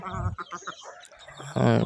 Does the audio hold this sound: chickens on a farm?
yes